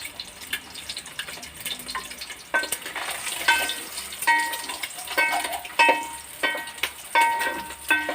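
Eggs fry in a hot pan for biryani, a continuous crackling sizzle with repeated scraping and clinking of a spatula that grows busier and louder after the first couple of seconds.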